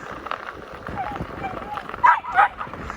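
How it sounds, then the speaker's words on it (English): A dog outdoors on the Katy Trail near the edge of Rocheport gives a couple of short, fairly close barks near the end, following a stretch of quieter ambient noise. "She's gonna bark because there's people."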